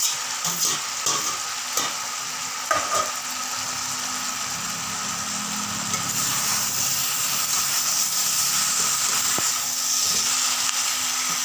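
Bitter gourd sautéing in a pan gives a steady, close sizzle and crackle throughout. A few spoon knocks early on settle into continuous frying noise.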